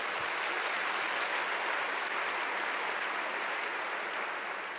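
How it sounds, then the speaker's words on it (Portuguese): A church congregation at a Sunday service applauds steadily, a dense, even roar of many hands clapping at once, held at a constant level throughout with no speech over it. "Dá um aplauso ao Senhor Jesus."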